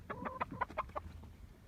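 A Colombian Wyandotte hen clucks in a quick run of about six close, rhythmic calls in a coop, then falls quiet, with no talking.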